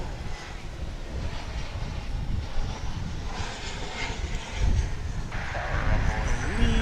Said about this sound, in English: let's get this one last flight coming in.